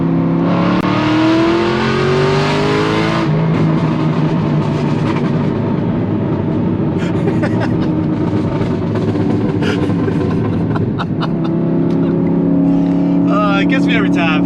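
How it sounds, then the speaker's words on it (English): A car with a tuned X-pipe exhaust accelerates hard, its engine note rising through the gears in long, loud sweeping tones, with a brief gear change and a voice talking over part of it. "Love the exhaust. The X-Pipe really makes that tone so much crisper."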